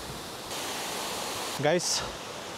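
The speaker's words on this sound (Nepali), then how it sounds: "यो चाहिँ हाम्रो सानो छहरे झरना गाइस" A small waterfall near Laukea waterfall in Nuwakot gives a steady, broad rushing of falling water throughout, with a voice talking briefly over it.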